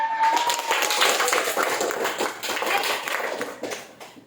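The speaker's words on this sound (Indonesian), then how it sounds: "Oke, kasih tepuk tangan." Classroom applause from a group of students, a steady patter of many clapping hands lasting several seconds before tapering off.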